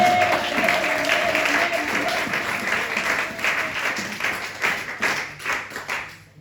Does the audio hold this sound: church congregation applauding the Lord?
yes